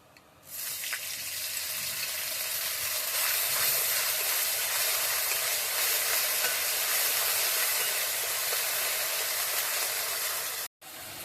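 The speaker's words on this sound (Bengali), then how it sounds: "এই তেলের ভেতরই কিছুটা জিরে ফোড়ন দিয়ে দেবো।" Cumin seeds and a ground paste of cumin, ginger and coriander sizzling in hot oil for a Bengali potol, paneer and posto dish, a loud steady broadband hiss that starts abruptly and holds, briefly cutting out near the end.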